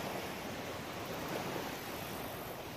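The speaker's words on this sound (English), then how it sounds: "They made some waves for us." Steady wash of water waves surging against a shore where people are fishing, a continuous close roar with no talking.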